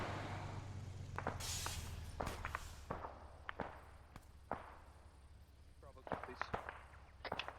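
Distant gunfire in the ARMA 3 military shooter, scattered sharp cracks and pops popping off irregularly across the clip, some louder and nearer, others faint, over a low steady rumble.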